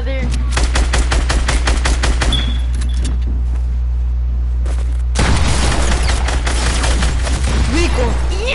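Rapid bursts of video game gunfire aimed at a building, loud and close, with dense automatic volleys, a brief lull, then heavier sustained shooting; players shout excitedly over it.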